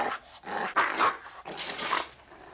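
A dog growls and snarls in short rumbling bursts, close and fairly loud, with brief pauses between pulses and no talking.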